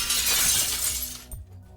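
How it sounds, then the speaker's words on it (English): A glass door shatters in one loud, dense burst of breaking glass, a scattering crash lasting about a second and a quarter before a final smaller impact and quick fade to near silence. "sound of shattering glass echoed through the street"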